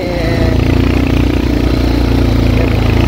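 A motorcycle engine running steadily during a mountain ride from Baglung toward Gurja, a loud continuous rumble with a throbbing low pulse close to the microphone, no speech heard.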